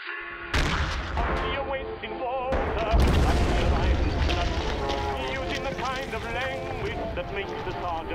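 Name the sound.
WW1 heavy artillery fire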